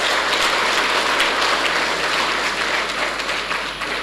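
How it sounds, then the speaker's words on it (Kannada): Steady, dense audience applause from a large crowd at a personality development talk, a continuous close wash of clapping that holds for several seconds without talk. "ಒಂದು ಚಪ್ಪಾಳೆ ತಟ್ಟೆ."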